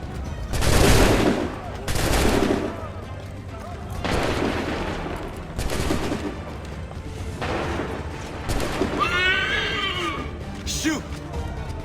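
Musket volley gunfire in an Assassin's Creed 3 cutscene, several loud crackling volleys firing in spaced bursts, with shouting voices between them.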